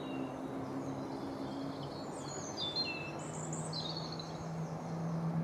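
Willow tit calling among young birch and willow: faint high chirps and short buzzy call notes at a distance, scattered over a soft outdoor background hum.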